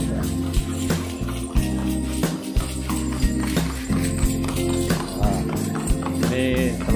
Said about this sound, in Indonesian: Suara kuda tok tok tok tok tok.